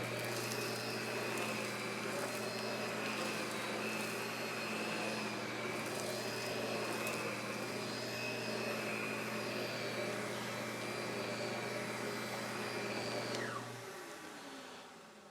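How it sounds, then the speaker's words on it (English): A Stealth Lindhaus central vacuum power brush nozzle runs with a steady whirring drone and high motor whine, close and continuous, then winds down near the end as the suction cuts off. "I want you to just hear how quiet this nozzle is to use"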